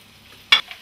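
Carrot and onion going into a pan for chowder, a single short sizzling burst followed by a faint crackle, close and without talking.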